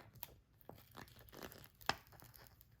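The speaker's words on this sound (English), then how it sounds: "I'm just going to simply remove the sticker" Soft, close crinkling and tearing of a decal sticker's backing being peeled away, a few quiet crackles and one brief sharper rip, done while making a DIY mug gift.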